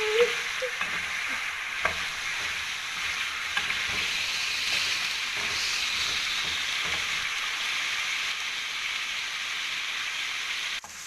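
Garlic potato slices frying in oil in a pan, a steady close sizzle and hiss lasting throughout, with occasional light clicks of a spatula moving the slices.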